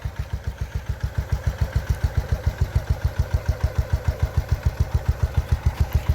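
A motorcycle engine, a Honda CB350 or Royal Enfield Himalayan held in first gear during a torque test, thumps at a steady, even idle-like beat, close and prominent, with no talk.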